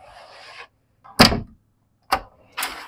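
A few short, sharp bursts of a light privacy door to a shower area sliding or knocking shut inside a 2016 Tiffin Allegro Open Road motorhome, with brief silences between them, close by and fairly loud.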